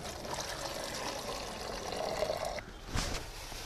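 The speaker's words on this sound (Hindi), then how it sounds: "सुसुम पानी छियै, 400 ग्राम पानी दै छियै" Lukewarm water poured into a plastic container for treating onion seed, a steady, close trickling stream with a brief pause and a splash near the end, with no talking.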